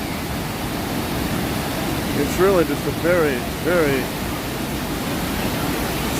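Waterfalls cascading at Grizzly Peak in Disney's California Adventure in the evening: a steady broadband rush of falling water, with a person speaking briefly over it partway through.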